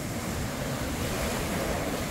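Sea waves rolling in on a rocky shore at Aldeia Camurupim in Paraíba, a steady broadband wash of surf mixed with some wind noise, continuous and fairly loud.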